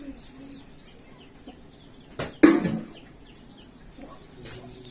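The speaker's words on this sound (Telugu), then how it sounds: "కోడిపుంజు ఒకటే వచ్చింది కదా" Chickens and a rooster in a rural yard, with faint scattered clucks and bird calls and one louder burst of squawking or wing-flapping in the middle, set against quiet outdoor background.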